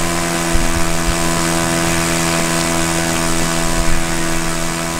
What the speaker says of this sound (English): the airplane is doing a left circle rather than a right circle